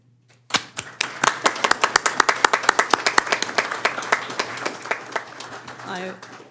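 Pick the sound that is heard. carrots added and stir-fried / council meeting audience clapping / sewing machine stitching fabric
council meeting audience clapping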